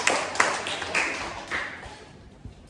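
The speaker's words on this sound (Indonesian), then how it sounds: "Jadi beri tepuk tangan untuk kawan-kawan yang sudah maju." A classroom of students claps for classmates who came to the front, a brisk burst of applause that gradually fades away, with faint voices underneath.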